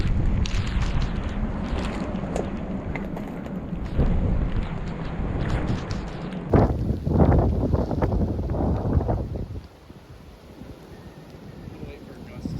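Strong mountain wind gusting at 45-60 mph on Bald Knob near Mountain Lake, Virginia, roars and buffets the microphone in loud, continuous surges, easing off toward the end, with people talking over it.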